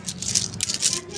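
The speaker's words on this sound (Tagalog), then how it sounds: "So ito yung mga barya na naipon natin sa loob ng mahigit isang linggo." Saved-up coins being dropped into a savings container, a steady metallic jingle and rattle of loose change spilling together over a second or so, close and alone.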